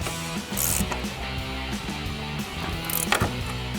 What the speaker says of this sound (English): go back up top with a 15mm ratcheting wrench and tighten down our nuts